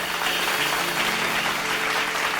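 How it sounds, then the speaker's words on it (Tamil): A church congregation at a Tamil Sunday service clapping their hands together, a dense, continuous patter of many hands at steady volume throughout the brief stretch. "கைத்தட்டுங்க."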